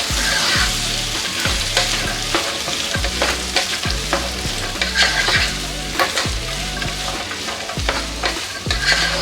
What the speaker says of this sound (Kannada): ಇದನ್ನೆಲ್ಲನೂ ಇದೇ ರೀತಿ ಎಣ್ಣೆನಲ್ಲೇ ಫ್ರೈ ಮಾಡ್ಕೊಳ್ಬೇಕು